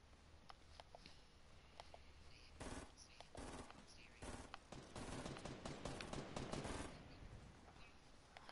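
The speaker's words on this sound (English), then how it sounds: "I hear shots." Scattered gunshots in a video game, far off and fairly faint at first, building into several sharp bursts of rapid fire in the middle, with a voice talking in between.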